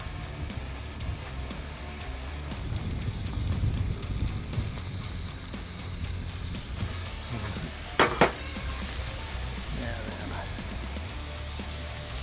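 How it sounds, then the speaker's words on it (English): Butter melting on a hot Blackstone griddle outdoors, a steady low hiss and sizzle with a brief metallic scrape midway, moderately loud and close with no talking. "I'm gonna get me a little bit of butter on here."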